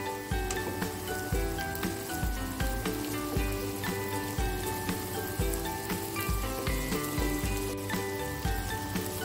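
An anchovy and jengkol stir-fry crackles steadily in a hot pan as it is stirred, with an even, close sizzle and soft scraping over a faint tonal background.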